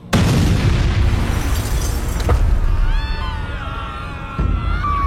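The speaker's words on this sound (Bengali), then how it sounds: "প্রথম বোমাটা পড়ল বাসের পিছনের দিকে। ভূমিকম্পের মতো কেঁপে উঠল মাটি।" A bomb explosion sound effect for a dramatized audio story, the blast striking the rear of a bus: a sudden loud boom followed by a sustained roaring rumble, with high wavering tones rising over it and a second thud near the end.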